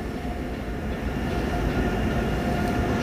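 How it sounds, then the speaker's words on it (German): A freight train rolling slowly through Fulda station, a steady loud rumble of wheels and wagons with a faint metallic hum, continuous and close throughout. "Auf der anderen Seite kommt jetzt auch so ein Güterzug"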